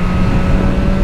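A nearby vehicle accelerates hard on a highway, heard during a ride on a BMW S1000R motorcycle: a loud, close, sustained engine roar with steady tonal whine over rumbling wind.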